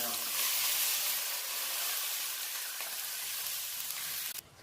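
Water poured into a hot pan while cooking sweet rice with raisins, a loud bright sizzle and hiss that slowly eases, close and continuous.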